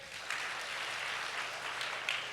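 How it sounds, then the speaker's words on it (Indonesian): Congregation clapping at a Sunday church service, a steady, fairly faint wash of applause that holds level throughout with no voices on top. "Tepuk tangan Tuhan Yesus."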